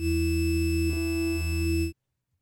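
A steady, bright synthesizer tone in Reaktor passes through a notch filter, a narrow dip sweeping briefly through its harmonics, clean and alone for about two seconds before cutting off.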